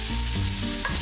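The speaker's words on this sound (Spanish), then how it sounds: "Vamos a ir friendo nuestro queso Oaxaca." Oaxaca cheese fries in a hot pan, a loud, close, continuous sizzle with a brief stir or scrape partway through and no voices.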